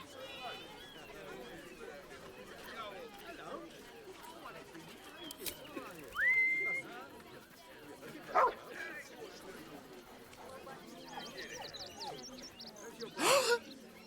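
Scratch, a dog in the Baldur's Gate 3 video game, barks in a few short sharp bursts amid game ambience, with spoken character dialogue running throughout.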